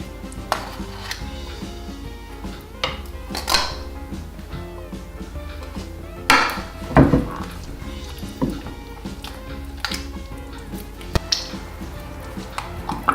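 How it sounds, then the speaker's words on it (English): Bibingka rice cake batter is stirred in a bowl, producing irregular clinks and taps of a utensil against the dish, with occasional louder knocks over a low background hum. "Mix thoroughly until the mixture is smooth"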